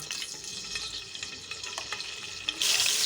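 Garlic-ginger paste, about a tablespoon in roughly a quarter cup of oil, fries in a pot with a soft crackling sizzle and occasional stirring taps, ending in a louder hissing burst, close, with no talking.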